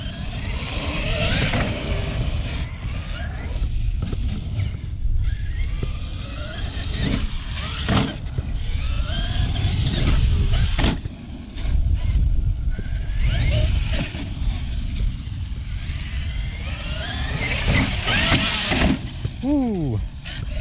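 Traxxas X-Maxx RC truck driving, with loud whining motor bursts, creaks and clattering suspension knocks in irregular runs, near and rough, with people talking over it.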